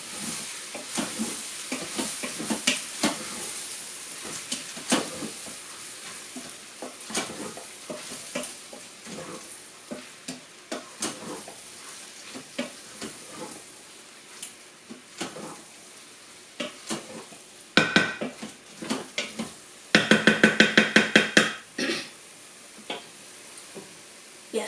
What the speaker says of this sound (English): stir the gizzards into the onion, tomato, spice mixture and get them very well coated.